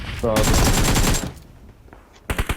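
A quick burst of automatic gunfire in the PUBG Mobile battle royale game, rapid rattling shots for about a second, followed by a lull and a few more sharp cracks.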